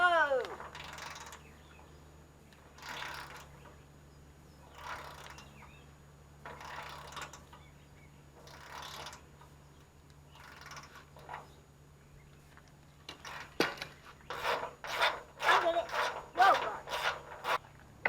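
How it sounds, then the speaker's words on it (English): Metallic ratcheting and creaking as a long pole loosens the shock's top nut on a Chevy C10 frame, coming in repeated strained bursts that quicken into faster clicking toward the end, with a low hum beneath. "we're going to start by loosening the top nut that holds the shock to the frame."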